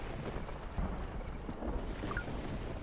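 Steady rain pours down with low rumbling thunder during a storm in the video game Stranded: Alien Dawn, a soft, continuous wash of noise with no voices.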